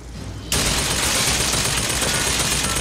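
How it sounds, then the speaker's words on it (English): Gunfire in the video game BioShock Infinite: Burial at Sea erupts suddenly after a half-second lull into a dense, continuous, loud barrage that holds steady to the end. "Could you stop shooting at me"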